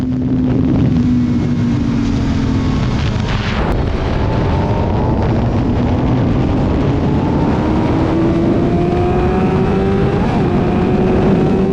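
A motorcycle runs hard around a dirt track, its engine droning loudly and continuously with rising and shifting pitch under heavy wind buffeting, close to the microphone.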